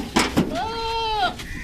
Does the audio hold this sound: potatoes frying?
no